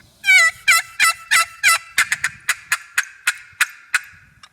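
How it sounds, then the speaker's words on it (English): A wooden turkey box call works through a run of five drawn-out yelps, then a quicker series of sharp, clipped cuts, loud and close with no talking over it. "If I don't hear nothing in the first yelp, what I'll do is I'll yelp again and then I'll add some cuts to it."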